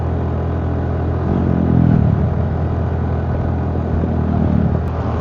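Suzuki Burgman Street 125 scooter engine laboring as it climbs a hill, a steady loud drone with wind rumble and a brief swell in engine note partway through, no talk.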